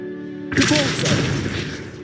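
A Depulso repelling spell in Hogwarts Legacy lands as a sudden loud burst, a broad booming blast that cuts over steady background game music and decays through its short rumbling tail.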